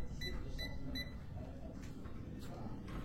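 A Tesmen TMM-569A multimeter's voltage detector, swept past a live wire inside a wall, gives a quick run of short, high beeps, then a few fainter ones.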